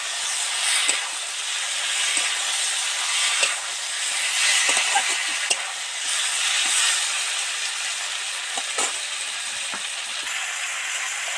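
Bitter gourd, potato and peas frying in oil in a pan, giving a steady close sizzling hiss with scattered small crackles and pops throughout, no talking.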